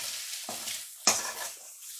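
Close, gentle frying hiss of onion in a pan with a couple of scraping stir strokes from a utensil, quiet and alone.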